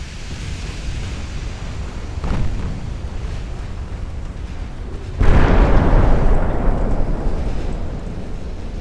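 A flash fire explosion aboard a warship in the naval battle game Ultimate Admiral Dreadnoughts: a low roar of noise breaks out suddenly partway through and stays loud, with a smaller thump before it over a steady rumbling background.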